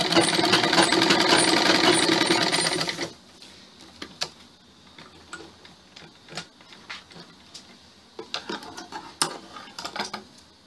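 A sewing machine runs steadily for about three seconds, stitching a fabric strip onto a blouse, loud and close. It then stops, leaving quieter handling clicks and taps.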